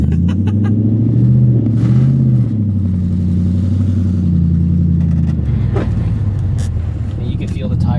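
Steady low engine rumble and road drone fill the cabin of a lowered Nissan Y33 with a full interior while it drives, loud and continuous, with a voice talking over it.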